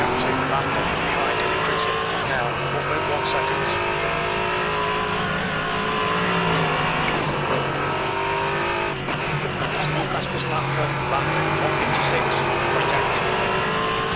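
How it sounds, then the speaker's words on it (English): Lamborghini Huracan ST Evo GT2 race car in World Sim Series sim racing, a loud steady engine roar with rising and falling revs through gear changes and brief tire squeal, under continuous commentary. "That was the Lamborghini Huracan ST Evo GT2, and now I'll be racing in clean air for quite a while"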